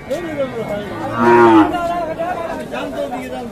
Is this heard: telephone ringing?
no